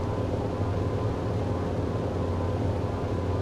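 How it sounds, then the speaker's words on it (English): A helicopter flies in the War Thunder simulator, its steady, dense engine and rotor drone holding at an even level throughout, with no voices. "this helicopter does not like to hover"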